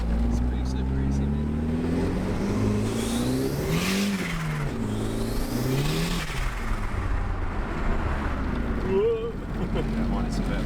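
Revving four-cylinder engine of a Mk2 Ford Fiesta sleeper fitted with a screamer pipe exhaust, rising and falling in two or three loud sweeps, close and sustained over roughly ten seconds of steady road noise.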